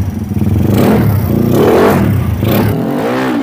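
A modified Yamaha Mio scooter engine revs hard up close, a loud, continuous rising and falling roar with rattly mechanical clatter across a few seconds.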